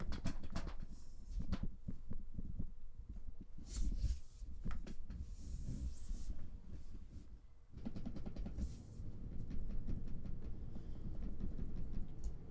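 Handling noise from a Rode shotgun microphone in a blimp on a Rode Boom Pole Pro: faint, continuous rustling with soft bumps and cable taps, low and muffled, with no voice present.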